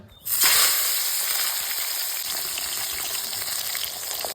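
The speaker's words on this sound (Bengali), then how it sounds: "কড়াই গরম করে সর্ষের তেল দিয়ে তাতে দিয়ে দেব মাছের মাথা," A fish head drops into hot mustard oil in a wok and bursts into a loud, close sizzle. The frying then settles into a steady hiss that continues to the end.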